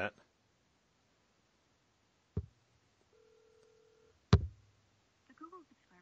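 A single faint phone ringback tone sounds for about a second over a telephone line, framed by sharp clicks and near silence.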